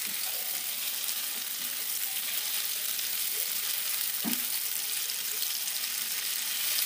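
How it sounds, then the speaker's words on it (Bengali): Marinated chicken frying with fried onions in a pan, a steady close hiss of sizzling with occasional scraping stirs throughout. "এই যে চিকেনগুলোকে আমি ঢেলে দিচ্ছি। ভালো করে কষিয়ে নেব।"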